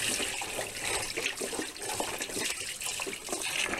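Two to four litres of vinegar pour into a container for degreasing traps, giving a continuous gurgling, splashing liquid stream at modest volume.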